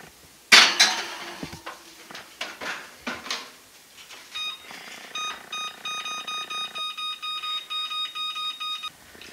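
A metal baking pan of banana bread clatters as it goes into an oven preheated to 350 degrees. A short run of knocks follows, then a steady string of electronic beeps from the oven controls.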